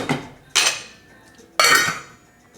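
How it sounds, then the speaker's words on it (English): A spoon stirs a pot of vegetable coconut curry, giving two distinct bursts of clinking and scraping against the pot, close and fairly loud, with quiet gaps between them and no talking. "Give it a little stir."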